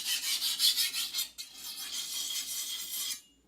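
A knife blade is stroked in quick rhythmic passes across a coarse 300 grit whetstone, giving a steady close scraping rasp that stops briefly partway through and then ends abruptly.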